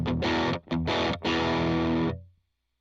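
An electric guitar runs through a distortion pedal into a driven amp, giving thick, saturated, sustained chords with two brief dips between strums before the sound rings out and fades to silence.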